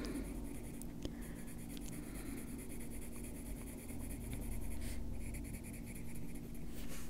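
Pencil drawing lines on the paper of a colouring book, a soft continuous scratchy stroking close up with a brief crinkle of the page, quiet and without talking.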